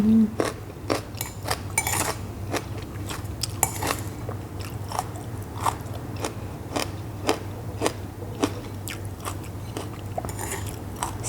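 Fresh plums coated in chili salt are bitten and chewed close to the microphone, with repeated crisp crunchy bites and wet chewing at a steady pace and no talking.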